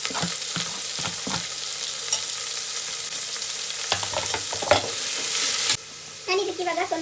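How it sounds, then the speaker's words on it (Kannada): Tomato and fenugreek leaves hit browned onions in hot oil with a loud crackling sizzle. Scraping stirs punctuate it, and near the end the hiss drops away abruptly as the pan settles. "ಟೊಮೊಟೊ ಮತ್ತು ಮೆಂತ್ಯ ಸೊಪ್ಪು ಒಟ್ಟಿಗೆ ಹಾಕ್ತಾ ಇದ್ದೀನಿ"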